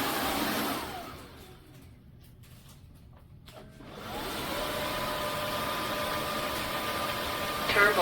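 A Narwal S20 Pro cordless wet-dry vacuum mop runs with a steady whirring hum that winds down to near quiet, then spins back up and holds, close to the microphone.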